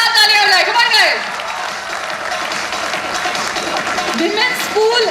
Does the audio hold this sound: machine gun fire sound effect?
no